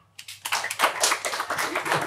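Scattered clapping breaks out from a stand-up comedy audience after a brief silence, a lively patter of many hands at moderate loudness that continues unevenly to the end.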